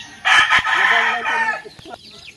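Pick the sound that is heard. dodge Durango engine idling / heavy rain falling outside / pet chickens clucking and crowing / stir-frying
pet chickens clucking and crowing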